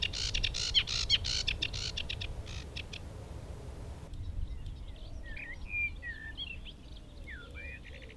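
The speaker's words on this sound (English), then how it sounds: "I came across this sedge warbler." Busy, scratchy song of a sedge warbler with quick chirps and varied phrases keeps going throughout, with a soft outdoor background and a noisier stretch early on, at Stodmarsh nature reserve.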